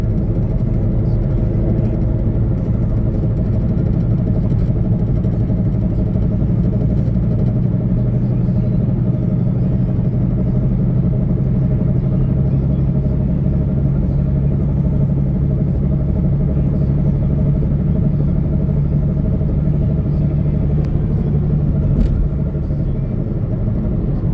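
A 2008 Honda Civic driving on the road heard from inside the cabin, a steady low engine and road rumble with tire hum, continuous and even throughout with no clunks or grinding.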